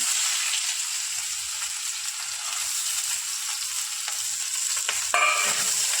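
Sliced onion and chilli fry in oil in a pan with a constant close sizzle, ending in a brief scrape or clatter of a utensil, and no voices.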